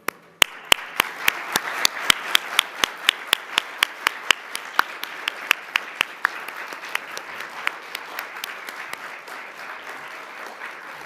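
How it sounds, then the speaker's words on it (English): An awards-ceremony audience gives a sustained round of applause, with dense clapping throughout and loud, sharp, evenly spaced claps from one nearby person standing out above the crowd. "please, ladies and gentlemen, another huge round of applause"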